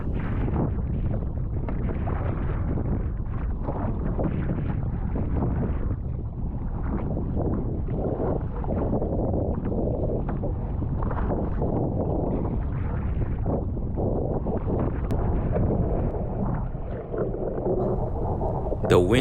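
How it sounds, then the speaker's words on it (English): Strong gale-force wind roars steadily and loudly across the microphone while a kayak is paddled on open water toward shore, a dense continuous rush with choppy water texture throughout. "The wind is blowing in the westerly direction, which is towards the shore."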